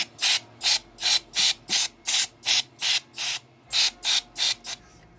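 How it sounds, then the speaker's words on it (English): Brake cleaner sprays in about a dozen short hissing bursts onto dirt bike clutch parts in a small parts washer, close and loud with brief gaps between each burst. "I'm very generous with the brake cleaner."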